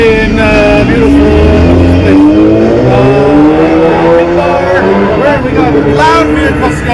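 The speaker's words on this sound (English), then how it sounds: "Loud vehicles going by." Loud engines roar and rev close by as vehicles pass, with rising and falling motor tones and a busy crowd murmur underneath.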